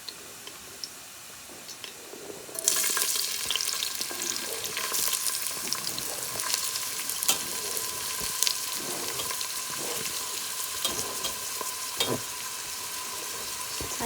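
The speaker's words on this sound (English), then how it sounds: "we're gonna cook the seasoning for a few minutes in the oil" Seasoning drops into about two tablespoons of hot oil in a pot for bhaji and bursts into a loud, steady sizzle that runs on without a break, with small ticks and pops scattered through the frying.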